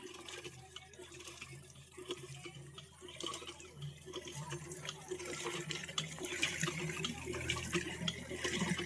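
Water gushing from a hand-pumped tubewell fills a bucket, a steady rushing and splashing flow that grows louder and fuller toward the end, with faint rhythmic creaks of the pump handle.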